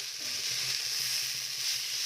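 Steady, close hiss and crackle of parshe fish frying in hot oil in a pan, continuous and even throughout.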